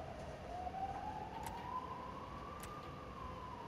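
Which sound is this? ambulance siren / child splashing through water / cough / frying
ambulance siren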